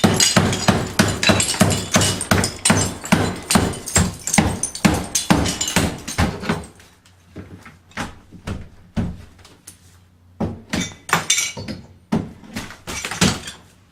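Rapid, heavy hammer-like thuds pound steadily as wall pieces are broken out during a bathroom demolition in Hagerstown, Maryland, then slow to scattered knocks and crunches after a brief pause, close and loud.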